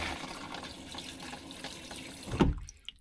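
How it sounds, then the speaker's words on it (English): Water gushes into a travel trailer toilet as its flush lever is pulled, a steady close wash of running water ending in a sudden low surge and gurgle before falling quiet. "So it lets water in, and then you pull it fully to flush."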